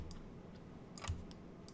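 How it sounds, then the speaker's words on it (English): A computer keyboard being used while editing overlays in Photoshop, with the Shift key held down: a handful of sparse, faint clicks spread over a quiet background. "I'm holding the Shift key down on my keyboard"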